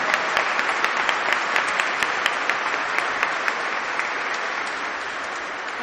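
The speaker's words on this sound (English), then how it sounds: "Can we just send him a round of applause?" Sustained audience applause at a memorial lecture, steady dense clapping at full strength throughout with individual sharp claps standing out, no voices over it.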